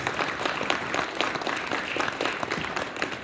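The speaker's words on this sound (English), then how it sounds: "Let's give these contestants a round of applause." An audience at a spelling bee applauds the contestants steadily for a few seconds, a dense wash of clapping from many hands with no voices standing out.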